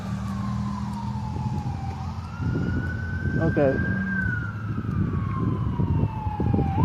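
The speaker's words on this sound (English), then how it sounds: "There's an ambulance or a fire truck or something." A passing ambulance or fire truck siren wails with slow rising and falling tones, moderately loud over traffic rumble, while someone speaks briefly.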